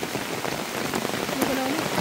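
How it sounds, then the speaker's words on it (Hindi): Heavy rain pouring at a lake, a loud, dense and steady hiss of drops hitting surfaces, filling the whole stretch without a break. "बारिश बहुत ज़्यादा बढ़ चुकी है"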